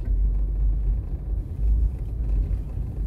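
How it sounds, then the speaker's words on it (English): Road traffic building up near a shopping plaza off Constant Spring Road, heard as a steady low rumble of car engines and tires with slight swells in loudness, no talk. "So traffic building up."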